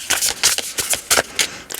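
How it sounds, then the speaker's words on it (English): Tarot cards being shuffled by hand, a quick series of crisp riffling bursts in a rapid uneven rhythm, close and clear with no talking. "I'm going to shuffle one more time"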